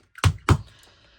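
A Crop-A-Dile hole punch is pressed through a ring-bound journal cover, giving two quick, firm thunks in close succession, close by, then a short fading tail.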